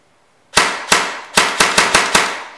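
A JLS RX4 airsoft gun firing six sharp, loud, close shots with a gearbox snap on each, spaced irregularly across two seconds after a silent start.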